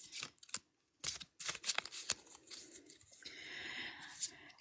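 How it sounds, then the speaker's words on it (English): A deck of tarot cards being shuffled by hand, with quick papery riffles and flicks in short bursts separated by brief pauses, then a softer continuous rustle, all close and quiet. "I'm going to shuffle and I really feel like I need to do this deck"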